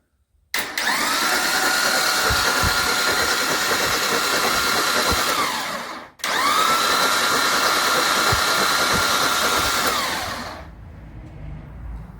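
A Jeep FC engine cranks over with its spark plugs removed, a steady whirring drone in two long bursts of about five and four seconds separated by a brief pause, loud and close with no voices.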